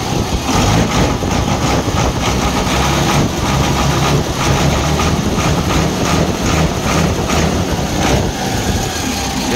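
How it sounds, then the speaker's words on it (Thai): A used car's engine running smoothly, a loud, steady, close-up mechanical hum and rumble that holds constant throughout with no talk. "เครื่องดีมากครับเครื่องดีนิ่มนะครับ"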